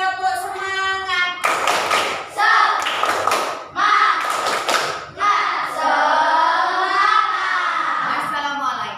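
Children in a school assembly break into bursts of rhythmic group clapping for a spirited classroom cheer, loud and close, with chanting voices between and around the claps.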